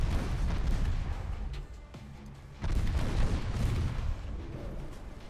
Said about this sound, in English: let's just aggressively fire our torpedoes